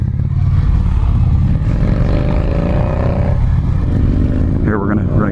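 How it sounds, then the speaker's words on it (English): An Indian Challenger motorcycle engine gives short part-throttle braps up close. A loud, steady rumble carries engine tones that climb and fall with each blip of the throttle. "I really like the little part throttle braps here"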